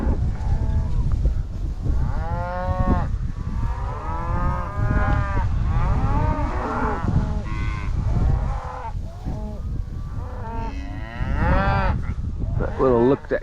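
Cattle on a ranch, a cow and calf, lowing repeatedly in long drawn moos at close range, several calls overlapping one another across the stretch, loud and clear over faint background.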